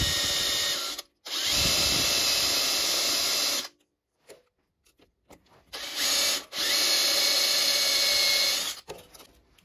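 An electric drill bores out a broken exhaust stud in an aluminium casting, lubricated with drilling oil: loud, steady, high-pitched whining bursts up close, broken by short pauses and quieter scraping.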